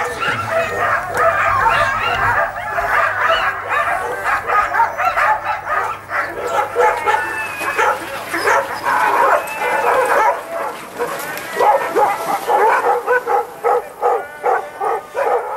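Sled dogs bark, yip and whimper in an excited, continuous chorus at a Yukon Quest camp before a stage, loud and close throughout.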